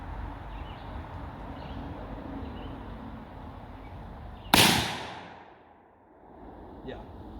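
A big-bore magnum revolver fires a single loud shot from a 300-grain reload, and the blast rings out with a long, fading echo after a stretch of steady outdoor background.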